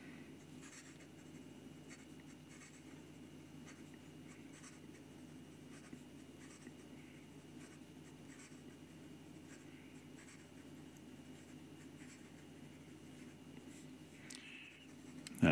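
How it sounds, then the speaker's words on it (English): A PenBBS 456 vac-filler fountain pen scratches quickly across paper in continuous, faint, close strokes, ending with a small tap. "And some quick writing."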